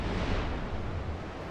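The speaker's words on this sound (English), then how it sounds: "And dramatic defeat explosion." A boss is defeated in Final Fantasy XII and explodes into a ball of fire, a sustained roaring, rumbling blast that stays broad and loud for the whole moment, with no voices.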